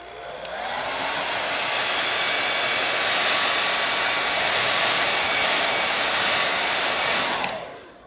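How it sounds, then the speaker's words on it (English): A hair dryer drying paint on paper roars in a steady, loud, close-up whoosh. It starts up and runs continuously, then cuts off near the end. "take a hair dryer and dry this all."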